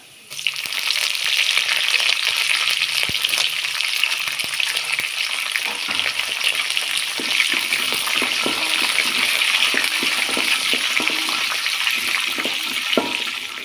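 Lentils, curry leaves and dried red chillies frying in hot oil, a steady close sizzle and crackle with occasional stirring clicks for the whole stretch.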